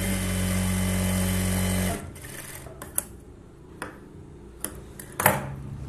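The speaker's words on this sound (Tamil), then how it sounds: "மடிச்சுட்டு சும்மா சென்டரில் ரஃபாக ஒரு தையல் போடுங்க." A sewing machine runs a rough stitch down the center of a folded blouse hook strip, its steady close motor buzz lasting about two seconds before stopping, followed by a few scattered sharp clicks.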